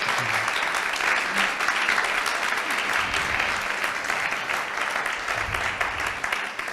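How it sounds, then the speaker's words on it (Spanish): A church congregation applauds during a Saturday plenary service, dense sustained clapping filling the room, with a few voices faintly audible beneath it. "Vamos a dar un aplauso a todas las mujeres de Dios que están aquí."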